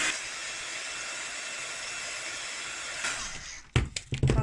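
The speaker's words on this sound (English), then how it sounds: "So I'm going to go for a quick zap of heat gun." A heat gun blows with a steady, close airy hiss for a few seconds, then cuts off into brief clunks and handling noise.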